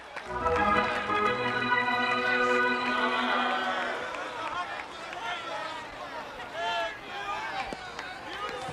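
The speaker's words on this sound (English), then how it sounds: "listen to the roar of the crowd as the Indians take the field" A stadium crowd roars and chants on opening day for the Cleveland Indians as the team takes the field. Mid-distance crowd noise with rising and falling tones, and a voice speaking over it.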